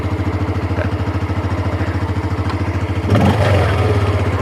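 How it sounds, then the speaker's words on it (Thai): A Yamaha PG-1 motorcycle engine idles close by with a steady, fast thumping pulse, then gives a brief louder clattery surge near the end before settling back to idle. "เดี๋ยวเรามาฟังเสียงกันครับว่าเครื่องยนต์สตาร์ทแล้วเป็นยังไง"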